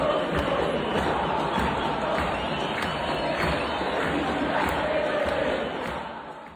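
A dense World Cup stadium crowd at Arrowhead Stadium in Kansas City, during a quarterfinal match, roars and cheers continuously, a thick wash of voices that stays loud throughout and tapers slightly at the end.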